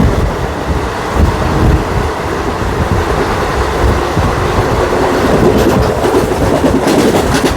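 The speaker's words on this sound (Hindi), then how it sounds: "दोनों ट्रेनें फुल स्पीड में होने वाली ज़बरदस्त क्रॉसिंग देखे।" Two express trains crossing at full speed in desert country, a loud continuous roar of rushing cars with wind buffeting and rhythmic rail clatter throughout, no talk.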